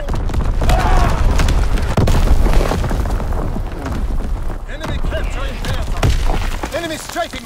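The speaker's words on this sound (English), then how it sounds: "Enemy mortar fire incoming." Mortar and artillery fire rains down in Call of Duty: WWII, a steady roll of deep booms and sharp bursts through a busy battlefield, with shouted voices and harmonic voice sounds rising over the barrage late on.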